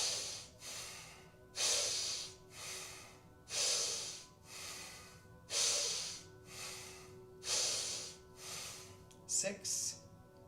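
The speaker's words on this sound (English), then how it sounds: "we take 10 conscious breaths" Slow, deliberate breaths in a yoga pose, each long airy inhale and exhale close to the microphone, repeating in a steady rhythm about once a second or two, with a soft hum underneath.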